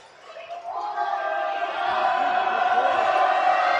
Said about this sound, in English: He's going to have a lot of crowd noise to fight against